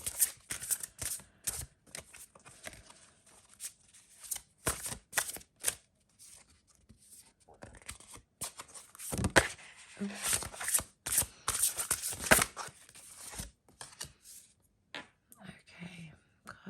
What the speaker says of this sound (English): let's lay out the cards